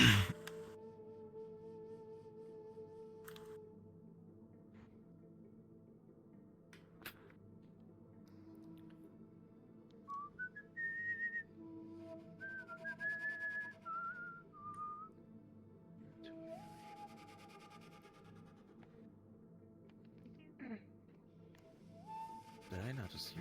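A person whistles a short, wavering tune in a quiet indoor roleplay game scene, rising and falling notes in brief phrases, fairly close and alone with little else around.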